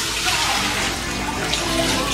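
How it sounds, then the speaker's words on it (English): Water pours steadily into a pot of washed rice being readied for congee, a continuous close splashing rush lasting a couple of seconds with no talk over it. "To that we're going to add 9 cups of water."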